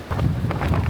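Gusty wind buffets the microphone in a steady low rumble, with brief swells of louder rushing throughout.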